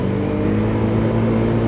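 Cars in slow traffic on a rainy Baguio City road during a storm, a steady close engine drone with rumbling low tones and no break.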